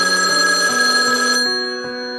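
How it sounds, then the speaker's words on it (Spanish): A telephone rings with a bright, steady electronic bell tone, loud and alone, then fades out, used as a sound effect in a Poppy Playtime horror story narration. "escuchamos el sonido de un teléfono"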